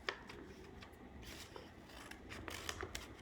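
Scissors snip through folded paper, several short crisp cuts with rustling between them, close and fairly quiet, with no one speaking.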